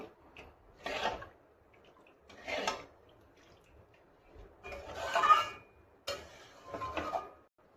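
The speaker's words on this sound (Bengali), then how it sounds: "তেলটাকে আমি একেবারে ঠান্ডা করার জন্য এভাবে খুন্তি দিয়ে ভালো মতো নাড়িয়ে চাড়িয়ে নেব" A metal spatula stirs oil in a pan for raw mango pickle, making five distinct scraping strokes separated by short pauses, close and moderately loud.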